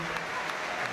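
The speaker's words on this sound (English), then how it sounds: "he's going to replace Mason Mount, who should get a very warm round of applause." A brief burst of dense applause from a large crowd at a Manchester United vs Fiorentina friendly football match, steady clapping that fills the moment, with a voice speaking faintly over it.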